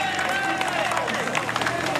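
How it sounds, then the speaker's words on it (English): A roadside crowd cheers and claps as Bradley Wiggins starts his individual time trial at the Critérium du Dauphiné, a steady roar of voices with a whistling tone and commentary-like speech mixed in. "Huge cheer from the crowd to greet Bradley Wiggins as he starts his 33 miles of the individual time trial here at the Dauphiné"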